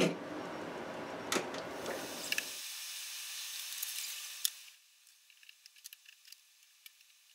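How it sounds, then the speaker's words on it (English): Machine tapping threads into a T-nut, a fairly loud rattling, hissing run that cuts off partway, leaving faint scattered ticks and clicks in a quiet room. "Here it's finally tapping. This is the first time it's actually cutting some thread"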